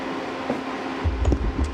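A microwave oven heating chicken tagine: a steady mechanical hum drones throughout, with a deeper rumbling layer and faint clinks joining partway through, close and continuous.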